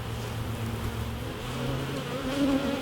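Honey bees buzz steadily at an open top-bar hive, a dense droning hum that swells slightly louder near the end, with no talking.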